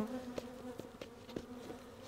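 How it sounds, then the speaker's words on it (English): Honey bees buzz around an open hive during a late-summer frame inspection, a soft steady drone with brief nearby passes rising and falling. "We've got about a couple bees."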